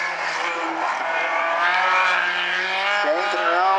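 A midget race car with a Triple X chassis laps South Sound Speedway during qualifying, its engine a loud, sustained high-pitched drone that holds steady, then shifts pitch as the car works through the turn.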